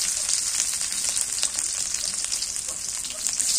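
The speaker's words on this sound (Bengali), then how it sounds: "চালানি করে শাকটা ভাজি করি" Leafy greens frying with garlic and green chillies in a village kitchen, a steady close hiss and sizzle running continuously with no talk.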